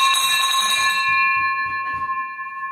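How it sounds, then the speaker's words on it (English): A hand bell is rung in celebration of a closed $20,000 real estate wholesaling deal, giving a bright sustained ring with repeated clanging strikes that slowly fade, close and loud. "Hand me that bell right there."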